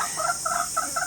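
Chickens cluck in a short run of soft, close calls, four or so quick bursts in a row with a faint steady hiss behind them.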